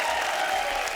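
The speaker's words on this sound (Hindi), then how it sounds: "जोरदार तालियां हमारे मेहमानों के लिए, आइए।" A studio audience claps in a dense, steady burst for the guests at a Bhojpuri film industry chat show, filling the whole short moment without any voices.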